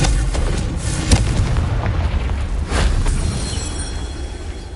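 A Confringo fire spell erupts in Hogwarts Legacy, a loud, close blast with a rumbling low boom, followed by a second heavy burst a couple of seconds later.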